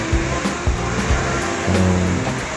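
Singapore double-decker bus passing close by on a street, a loud rushing engine and tyre roar with a deep rumble, heard alone for a few seconds.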